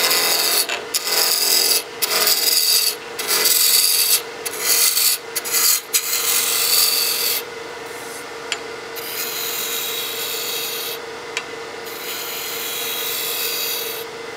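A tool scrapes against a wood block spinning on a lathe in rasping bursts, pausing briefly between passes, then settles into a steadier, softer shaving sound.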